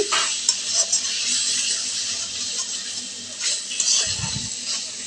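Potatoes and spices fry in hot oil in a pan while being stirred, giving a constant close sizzle with occasional scraping and clinking of the utensil against the pan.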